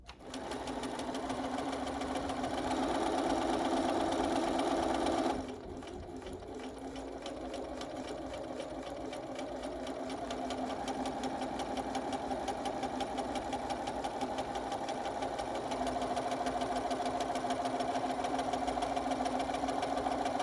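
A Bernina sewing machine runs steadily while folding tape and stitching a face mask tie, a loud, close, continuous mechanical whir with rapid needle rhythm that briefly shifts pace partway through and then carries on evenly.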